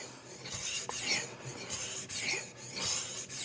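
A KN Knives Master Hunter knife drawn in full-length passes across a sharpening stone, loud close gritty rasping strokes repeating in a steady rhythm, several passes with short breaks between them, no voices.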